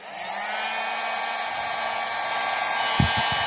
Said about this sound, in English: you run this right here, which is the heat gun, all the way down this edge